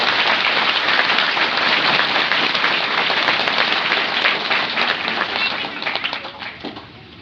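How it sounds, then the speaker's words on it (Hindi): A congregation in a parish church claps together during a Holy Mass for Confirmation, dense sustained applause that fills the room and then thins out and fades toward the end. "आइए हम लोग ताली बजाते हुए धन्यवाद प्रकट करेंगे।"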